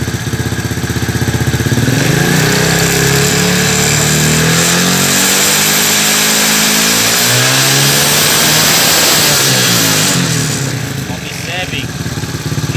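A Shineray XY 110 motorcycle's engine, tested for a battery that will not recharge, revs up loudly and close, climbing and holding high for several seconds before easing off, with someone speaking over it.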